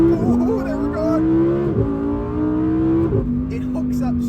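Lamborghini Huracan Tecnica V10 floored from a standstill, its engine note climbing steadily through two quick gear changes, loud and close inside the cabin with a voice talking over it.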